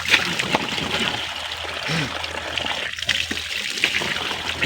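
Water splashes and trickles steadily nearby as someone bathes, with scattered splatters and a brief faint voice in the mix.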